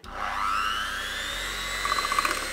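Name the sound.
electric hand whisk whisking egg mixture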